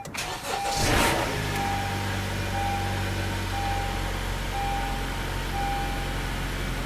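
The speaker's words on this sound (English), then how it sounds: "next I'm going to go ahead and start the vehicle" A Honda Accord with a CVT transmission cranks for a moment, fires with a loud flare, and settles into a steady close idle with a faint whine.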